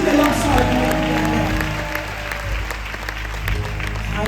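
A crowd at a women's conference claps loudly and steadily throughout, close and dense, with voices mixed in beneath the applause.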